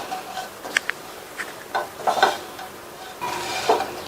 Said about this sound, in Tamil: மாதிரி கிண்டி கொடுத்துக்கலாம்.